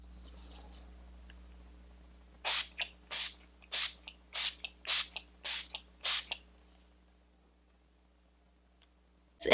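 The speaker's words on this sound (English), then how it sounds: "It sprays pretty finely and it sprays very like misty, like it goes kind of everywhere in a cloud" A Milani 3-in-1 setting spray bottle mists in a quiet room: about eight short, crisp hissing sprays come in quick, slightly uneven succession, close to the mic with near silence around them.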